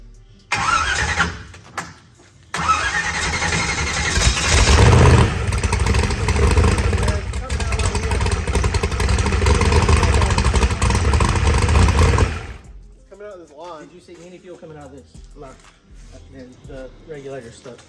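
An engine with a fuel pressure regulator problem cranks, fires up and roars loudly for about ten seconds under throttle, then cuts off, leaving people talking nearby.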